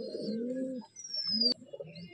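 Tolchap pigeon pair cooing, close and clear in low rolling phrases, with a brief high squeak and a sharp tap partway through.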